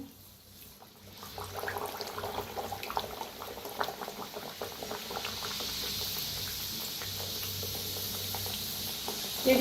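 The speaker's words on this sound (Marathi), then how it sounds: "गॅस कमी करूनच तळायचं म्हणजे मस्त असं क्रिस्पी होत आहे" Kachori deep frying in oil over a low gas flame, a continuous bubbling sizzle that swells after the first second and holds steady and close.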